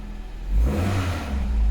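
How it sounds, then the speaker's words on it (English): A car engine, heard up close, revs in one rising, roaring burst that swells and then holds at a steady growl. No one talks over it. "I'm actually gonna rev it a little bit."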